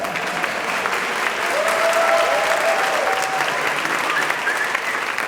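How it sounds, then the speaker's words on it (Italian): Guests burst into sustained, loud applause after a civil union is declared, the clapping continuous and dense, with a few cheering voices mixed in. "Applauso."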